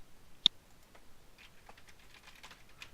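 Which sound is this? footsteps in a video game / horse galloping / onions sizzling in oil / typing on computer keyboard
typing on computer keyboard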